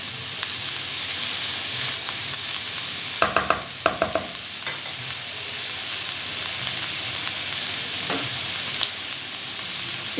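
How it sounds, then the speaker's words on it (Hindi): Spaghetti ingredients frying in a little oil give a steady, close sizzle, with a few brief clatters of stirring in the middle and no voices. "अच्छा, ये देखिए हमने थोड़ा सा ऑयल में इसको फ्राई कर लिया है।"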